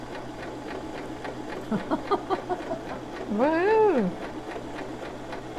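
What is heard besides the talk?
sewing machine stitching with presser foot down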